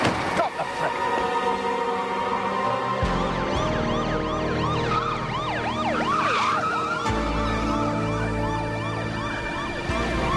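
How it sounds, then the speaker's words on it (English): A police car siren wails in rapid rising and falling sweeps during a 1992 chase, loud and close over a steady road rumble, with a brief break in the middle before it resumes. "He's cut the siren"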